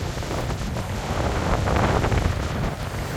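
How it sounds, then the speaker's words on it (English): Strong wind buffets the microphone as storm waves surge and crash at Sennen Cove in Cornwall, a loud, continuous roar that swells in the middle. "It's windy. Look at the waves."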